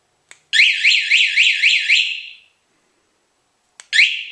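A motorcycle alarm system in panic mode sounds a loud, rapidly warbling electronic siren for about two seconds, then falls silent before a second burst starts.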